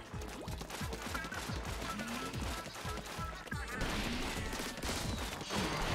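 Ink weapon firing in Splatoon 2 during a boss fight: a rapid, steady stream of wet popping shots repeating in quick rhythm over busy game music and effects.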